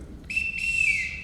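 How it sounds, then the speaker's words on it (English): A single shrill whistle blast in a large household, preceded by a short chirp and then held steady for about a second at close range, with no voices. "Everyone in this house answers to a whistle."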